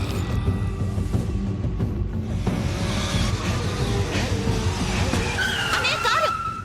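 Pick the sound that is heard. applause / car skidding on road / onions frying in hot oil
car skidding on road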